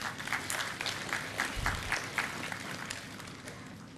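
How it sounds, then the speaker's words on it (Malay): University staff at a monthly meeting with the vice-chancellor applaud together, a fairly soft but steady stretch of many hands clapping with a few louder bursts, heard from some distance. "Satu tepukan gemuruh."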